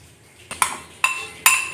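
Rice flour is added to a mixer grinder jar with three sharp, close metallic taps at roughly even intervals against a quiet background, with no voices.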